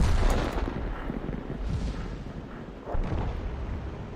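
An M44 self-propelled artillery gun fires in a tank video game, heard as a heavy, loud boom and a dense rumble. A second blast swells near the end, with no voices over it.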